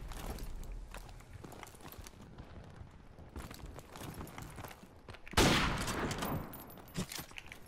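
Sniper rifle fire in a first-person shooter 1v1 match, with scattered shots and footstep-like clatter before one loud, close blast that rings out and decays over a couple of seconds.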